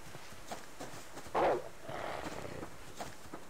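A wild animal sound in the Subsistence survival game, likely a wolf, gives a short loud growling burst followed by a longer rough rumble over steady ambient game noise.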